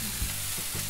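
Tomatoes, ginger and green chilies sauté in a pan with a soft, steady sizzle and a brief stirring knock, close and quiet without talk.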